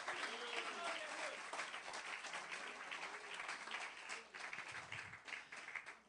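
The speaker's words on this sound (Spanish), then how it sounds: "Denles aplauso con fuerzas, con ganas a nuestro Dios" A church congregation claps for God, a steady wash of applause at moderate distance, continuous through the whole stretch with voices faintly underneath.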